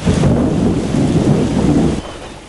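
Heavy rain pours down steadily in Metro Manila while deep thunder rumbles loudly through it, easing off near the end.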